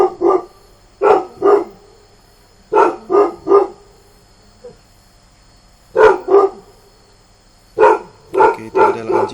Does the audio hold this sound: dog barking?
yes